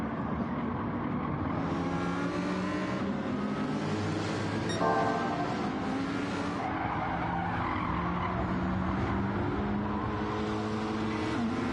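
Race cars battle closely around Tsukuba Circuit in the Gran Turismo video game, their engines droning loudly and steadily, with tires squealing through the corners and a brief sharp screech partway through.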